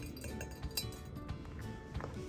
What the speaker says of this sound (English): Stir the sodium hydroxide until it's all dissolved in the water.